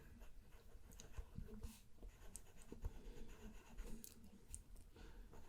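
A pencil sketching a portrait on paper, its soft scratching and rubbing strokes continuing steadily and close up in a quiet room, with no talking.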